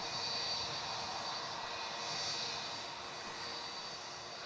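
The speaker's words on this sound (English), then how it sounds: "Inbound Jetstar 320." Jetstar Airbus A320 jet arriving at Melbourne Airport at night, a steady broad engine roar holding at moderate distance throughout, with no talking.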